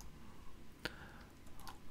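A few sparse, light clicks of typing on a computer keyboard, close and quiet, with a single sharper tap standing out and no talking.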